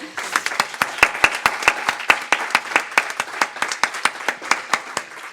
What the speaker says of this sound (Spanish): tú sí que has oído los aplausos en directo